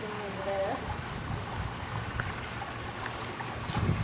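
Steady trickling water runs from an indoor water feature in a retail shop, a soft continuous flow under light background noise.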